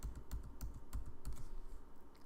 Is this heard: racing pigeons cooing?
no